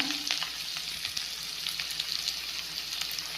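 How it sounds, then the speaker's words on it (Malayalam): Ginger and onion fry in hot oil in a pan for a crab curry, a dense, steady sizzle close to the mic with a few soft stirring scrapes and no talking. "എണ്ണ ചൂടായി അതിലേക്ക് ഇഞ്ചി ഉള്ളി ഇട്ട് കൊടുക്കാം"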